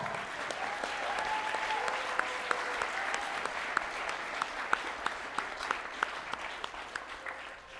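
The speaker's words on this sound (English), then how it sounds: "how about another round of applause for our brass quintet?" An audience applauds a school brass quintet at a high school band winter concert, a steady wash of many hands clapping throughout, moderately loud with a few sharper claps standing out near the end.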